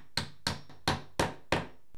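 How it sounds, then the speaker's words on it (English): A hammer tapping a door hinge pin back into place, five sharp metallic knocks spaced irregularly about a third of a second apart, close and distinct, with a brief clack at the end. "And then I just give it a little tap with my hammer."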